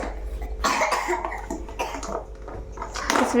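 A child coughs several times in short bursts, close by and fairly loud.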